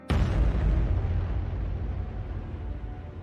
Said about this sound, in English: a huge explosion rocked the island.